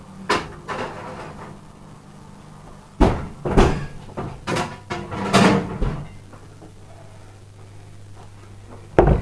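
A kitchen oven door bangs shut after jelly jars go in, a few sharp knocks and clunks spread across several seconds, close and loud over a low steady hum.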